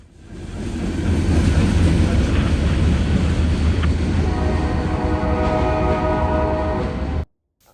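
A CSX push-pull train with a GP38 locomotive at each end rumbles past loudly and close, a continuous heavy roar of wheels and engines that cuts off abruptly near the end.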